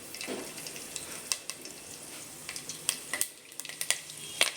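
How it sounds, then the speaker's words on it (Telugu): Curry leaves frying in hot oil, a close, steady sizzle and crackle with scattered sharp pops and some stirring clatter, heard alone without talk. "ఫస్ట్ ఆయిల్ వేసి కరివేపాకు వేసినావు."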